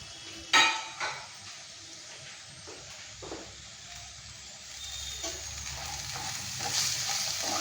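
Ivy gourd fry with fresh coriander being stirred in a pan, a low sizzle with a few loud spatula knocks early on, then quieter scraping as the frying hiss builds toward the end.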